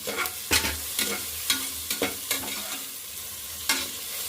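Three green chillies fry in a pan for soya pulao, with a continuous sizzle broken by regular sharp scraping strokes of a spoon about twice a second, close and clear, with no talk.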